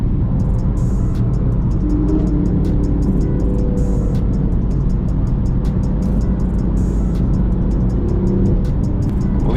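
A manual BMW M4 Competition drives on the road, its engine and exhaust a loud, steady low drone heard from inside the car, with no talking.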